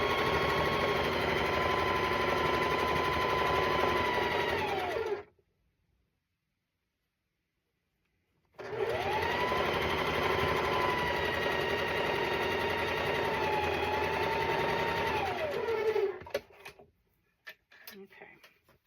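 A home sewing machine stitches pieces of quilt fabric together with a steady whirring hum in two runs of several seconds each, separated by a pause and ending in a few clicks.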